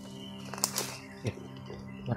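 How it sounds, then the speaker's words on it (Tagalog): Birds call from overhead in an open outdoor setting, a few short chirps and flutters rising over a steady background hum, with no clear talking. "maraming ibon sa itaas."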